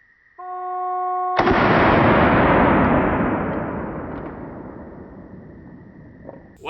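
An FP45 Liberator pistol fires a single loud shot at point blank range, with a sharp crack that rolls into a long, slowly fading echo over several seconds.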